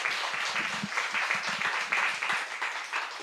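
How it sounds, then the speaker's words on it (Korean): Congregation applauding in a church service, a steady dense round of many hands clapping at moderate distance, sustained evenly throughout without pause. "우리 하나님께 영광의 박수 올려드립시다"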